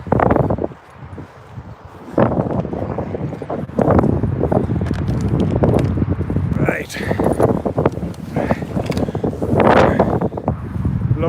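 Gusty wind buffets the microphone on a countryside dog walk at Peatley, a steady low roar with rustling and footsteps, rising and falling throughout.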